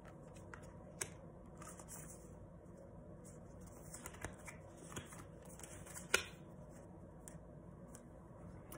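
Universe Has Your Back oracle cards being drawn from a deck: faint, soft papery shuffling and rustling with a few sharper card snaps and taps scattered through a quiet room, no talking.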